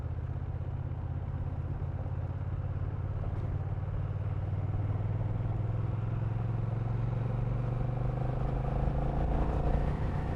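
A 2021 Honda Rebel DCT motorcycle rides at a low, steady 2,000 RPM in sixth gear, its medium engine drone continuous and close, the pitch slowly rising slightly, with no talking.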